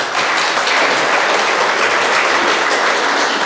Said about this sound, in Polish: te oklaski to nie dla nas.